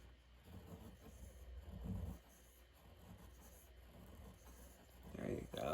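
A fountain pen's flexible nib scratches across paper in soft, faint strokes, heard close against a low background hum.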